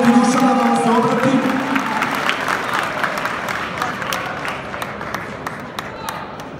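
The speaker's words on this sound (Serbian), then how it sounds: "Još jedan aplauz, molim vas." Audience applause at the Megdan Fighting Championship 4 fight event, a dense crowd clapping strongly at first and then gradually thinning out, with a voice over a microphone at the start.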